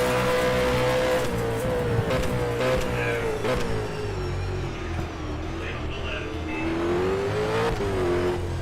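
V8 race cars at a South Australian circuit roar steadily as one car overtakes another up the inside, a sustained loud engine drone rising and falling with a commentator talking over it throughout.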